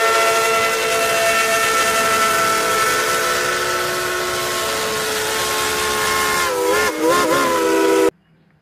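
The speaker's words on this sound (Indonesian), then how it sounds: "di sini juga ada kereta api uap warna hijau" A green toy steam train blows a loud, steady whistle for about eight seconds, wavering briefly near the end before cutting off abruptly.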